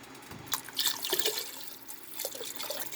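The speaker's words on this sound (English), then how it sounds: "Add a little bit more water." Water poured into a pot of homemade chicken noodle soup as the chicken cooks, giving a few seconds of uneven splashing and trickling, fairly soft and close, with no talking.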